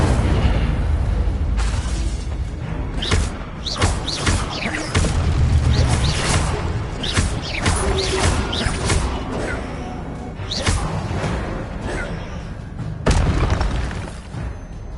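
A fire spell is cast in a PS5 video game, loud whooshing bursts and booming impacts crowding one another in an intense stretch of combat, with faint voices mixed in.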